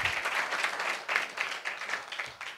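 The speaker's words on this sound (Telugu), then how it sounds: "జోరుగా ఒక క్లాప్ కొట్టి దేవుని పరిశుద్ధ నామముకు మహిమ పడతాం" A church congregation claps together in a brisk, regular rhythm, loud and close, each beat landing as a crisp burst from many hands.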